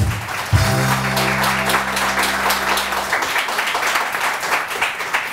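Studio audience clapping on a morning talk show, a burst of many hands that starts over a brief musical chord and continues as loud, dense applause to the end.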